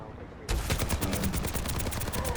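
Sustained rapid gunfire in Overwatch 2, starting abruptly after a brief quiet moment and continuing as a loud, even stream of close shots.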